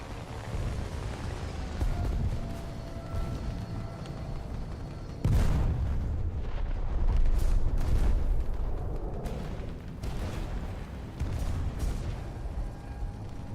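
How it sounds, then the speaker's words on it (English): Airstrike explosions in War Thunder land as several heavy booms, the loudest a sudden blast midway, over a constant rumbling battlefield din with engine drone. "Request target for airstrike"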